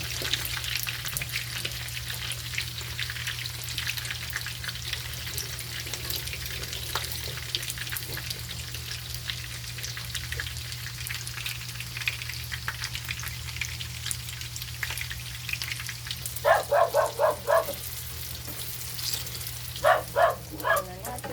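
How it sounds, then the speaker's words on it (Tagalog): Eggplant sizzles steadily in hot oil after tofu has been fried, a constant close frying hiss under a low hum, with a few short bursts of clatter near the end. "Pritohin naman natin si talong si tapos ng ating tofu."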